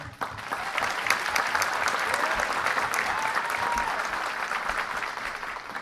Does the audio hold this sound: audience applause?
yes